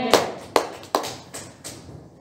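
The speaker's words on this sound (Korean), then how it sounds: "우리 주님께 영광의 박수 드립니다." A handful of sharp, separate claps ring out in a reverberant church during a Christmas Sunday worship service, about five in an even, unhurried rhythm, each trailing off in the hall's echo.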